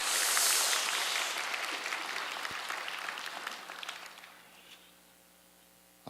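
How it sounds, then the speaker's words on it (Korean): A Korean church congregation at a Sunday service applauds its choir, praise team and orchestra. A loud burst of clapping fills the hall, then gradually dies away into near quiet over about five seconds. "우리 한 번 더 박수하겠습니다"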